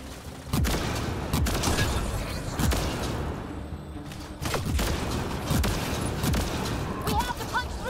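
Mass Effect video game gunfire: repeated sharp shots and short bursts cracking out at irregular intervals over a dense, loud battle soundscape.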